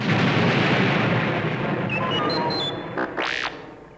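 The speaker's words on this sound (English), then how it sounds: "The Death Star rocked with a chain of explosions." A storybook sound effect of the Death Star blowing up in a chain of explosions from Return of the Jedi: a loud roaring rumble that fades, overlaid near the end by chirpy electronic tones and a swooping boing-like sweep.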